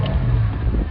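A Porsche Panamera 4S engine fires up, a short, loud, close low-pitched engine roar that holds steady.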